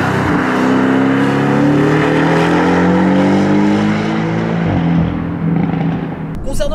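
A Porsche 718 Boxster S four-cylinder engine with a PDK gearbox pulls hard under acceleration, its loud, steady drone briefly dipping at a quick gear change before a few sharp exhaust pops near the end.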